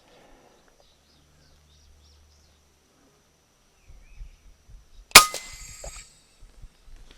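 FX Impact air rifle fired once at a squirrel outdoors, giving a single sharp close crack with a short ringing tail after quiet rustling and handling sounds. Birds chirp faintly in the background.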